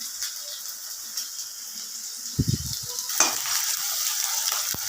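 Onion frying in a pan for a vegetable stir-fry, a faint steady sizzle with a brief clatter of stirring around the middle and a sharper scrape just after, no voices.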